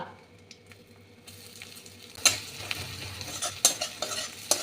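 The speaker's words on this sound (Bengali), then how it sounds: "ভালো করে ভেজে নেব" Fennel seeds, cumin and bay leaf sizzle as a tempering in hot oil for a banana-flower curry. The frying hiss is steady throughout, and a spoon scrapes and clatters against the pan several times.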